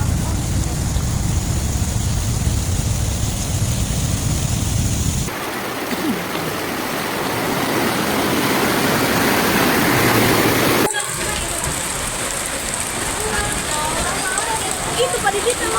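Floodwater after heavy rain in Bandar Lampung rushes in a loud, steady roar with constant splashing and hissing that continues throughout.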